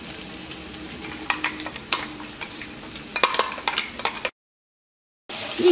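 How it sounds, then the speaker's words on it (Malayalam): Ginger garlic paste fries in hot oil for a dates pickle, giving a continuous close sizzle broken by spoon stirs and scrapes against the pan, then a brief silence before the frying returns. "ഇഞ്ചിയും വെളുത്തുള്ളിയും ഇതിനകത്ത് കിടന്നിട്ട് നന്നായിട്ട് മുരിയണം"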